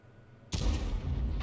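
A 105 leFH18B2 artillery gun fires in a tank video game: one sudden, loud, booming blast that holds as a heavy rumbling roar, with no voices.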